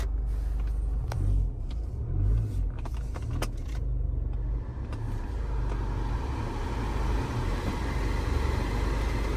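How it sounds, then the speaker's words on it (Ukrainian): Air blows from the climate control of a Skoda Superb 2.0 DSG, a steady low rush inside the car. Sharp clicks and a jangle of keys come early, then the airflow holds on alone at an even level. "Холодне повітря дує відразу, кліматизація працює"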